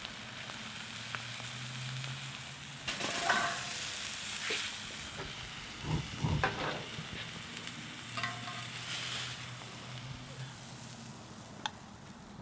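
Miso-marinated flap steak sears in a Roccbox oven, a steady close sizzle and hiss with scattered pops and crackles and a few faint clinks of handling, no voices.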